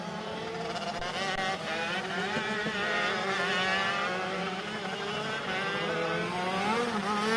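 Rok shifter race karts climb a hill on a Sonoma racetrack, their engines whining loudly at high pitch and rising and falling as they rev through the climb, in a steady continuous stream of sound.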